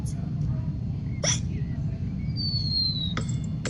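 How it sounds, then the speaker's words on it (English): A cartoon piglet hiccups in sharp, isolated bursts, two or three squeaky hics spaced apart, over a steady background of cartoon ambience and a high whistling tone. "George's hiccups are spoiling the game"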